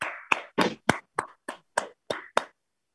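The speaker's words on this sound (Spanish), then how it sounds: "vamos a dar un aplauso a Patricia, chicos." Nine sharp, separate hand claps at a steady rhythm over about two and a half seconds, close and clear with silence between them, in a hybrid preschool class, with no voices heard.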